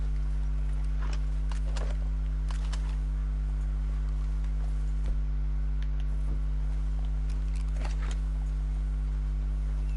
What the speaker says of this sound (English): Let's leave the horses here.